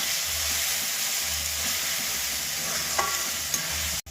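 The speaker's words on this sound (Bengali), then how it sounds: "চিংড়ির পেস্টটাও আমি আদা রসুন পেঁয়াজের সঙ্গে ভালো করে মিশিয়ে নিচ্ছি।" Prawn paste stir-fried with ginger, garlic and onion gives a steady, close sizzle with scraping stir strokes, continuous for about four seconds before cutting off abruptly.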